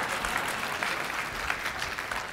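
A small audience claps at a talk about the life of David, a steady wash of hand claps for a couple of seconds, moderately distant, with no voices over it.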